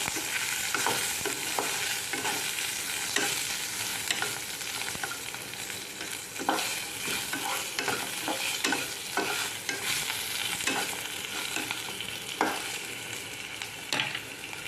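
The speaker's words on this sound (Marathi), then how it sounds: "लसूण व्यवस्थित भाजून घ्यायची हे सगळं व्यवस्थित भाजून घ्यायचं लसूण मिरच्या आणि जिरं" Garlic, green chillies and cumin roasting for thecha, a steady close sizzle broken by repeated scraping strokes of a spatula stirring the pan, regular and continuous with no speech.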